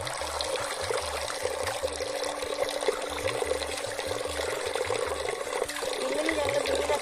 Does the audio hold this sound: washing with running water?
yes